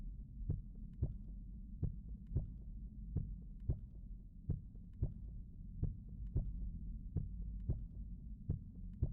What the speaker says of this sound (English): You can still only hear your heartbeat.